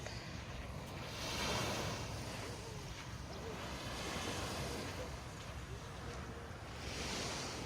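Continuous rushing surf from nearby waves at a beach resort in Sogod, Cebu, Philippines, swelling and easing over several seconds, mixed with wind buffeting the microphone.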